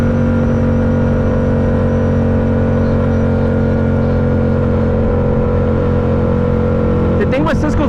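Cisco's dirt bike engine drones at a steady, loud, sustained pitch close by, with a brief rising rev near the end.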